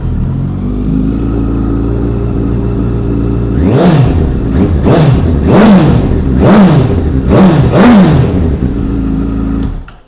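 A 2016 Honda CBR1000RR Fireblade with a carbon Akrapovic exhaust idles loudly and steadily, then is revved in five sharp throttle blips that rise and fall, each rising to a snarling peak before it drops back to idle.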